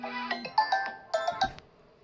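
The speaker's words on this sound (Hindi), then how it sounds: "फ़ोन आ गया था बीच में" A phone rings during a home kitchen cleaning session, playing a short melodic ringtone of several bright chiming notes in quick succession, fairly faint and alone, ending abruptly after about two seconds.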